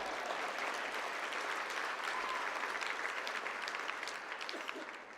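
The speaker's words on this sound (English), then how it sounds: "round of applause" Luncheon guests give a warm round of applause, dense, even clapping from a large room that fades slightly toward the end.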